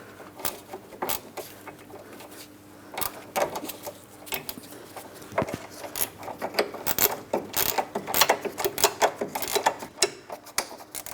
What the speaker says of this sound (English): Using my ratcheting wrench for this